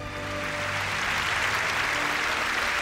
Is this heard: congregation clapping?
yes